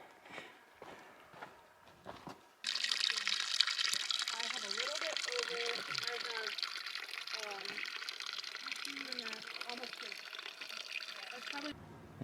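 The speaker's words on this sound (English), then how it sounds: "there should be a nice flowing stream right there" Flowing mountain stream on the Pacific Crest Trail near Chinook Pass, a steady broadband rush of water that swells in suddenly and stays loud and close, with footsteps and brief talk before it.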